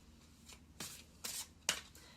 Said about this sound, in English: Why I shuffled these in front of you